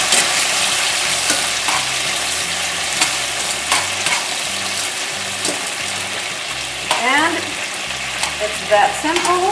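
Tortillas sizzle and crackle loudly in red chilaquiles sauce in a hot pan, a dense close frying hiss with occasional stirring scrapes and faint voices underneath.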